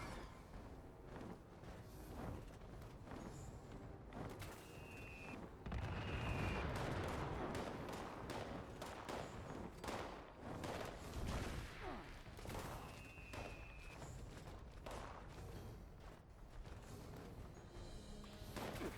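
Rapid thumping blasts from a two-shot auto grenade launcher in Fallout 76 during a fight with a Scorchbeast, heavy booms repeating over a rumbling, cluttered game soundscape, fairly quiet overall.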